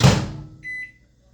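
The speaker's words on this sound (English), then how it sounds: "I'm going to microwave it" A microwave oven is used to melt white chocolate chips with vegetable oil: a door clunks shut, then a pair of short, high electronic beeps sound clearly in a quiet kitchen.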